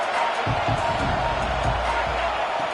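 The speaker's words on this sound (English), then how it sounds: "Listen to the crowd energy here in the early going." Crowd noise at a UCLA college football game, a steady broad roar of spectators with scattered louder bursts, heard throughout with speech-like sounds mixed in.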